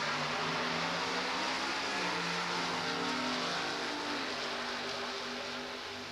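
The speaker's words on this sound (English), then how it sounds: "the Chevrolet drag racing action continues" Chevrolet drag racing cars at a drag strip give a loud, continuous engine roar with a steady, dense rumble that fades slightly at the end.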